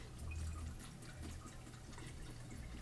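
Water drains from cooked food in a colander, a soft continuous splashing trickle close by and fairly quiet, with no talking.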